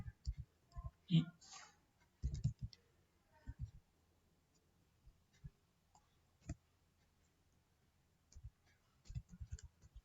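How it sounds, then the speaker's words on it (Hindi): Computer keyboard keys pressed while typing Python code: sparse, faint clicks come singly and in small clusters, with quiet pauses between them. "अभी यहाँ पर एंटर मारता हूँ।"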